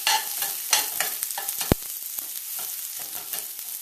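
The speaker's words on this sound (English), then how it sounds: "Give that a quick stir." Garlic and onion frying in a hot pan while being stirred, a steady close sizzle with scraping strokes and one sharp clank near the middle.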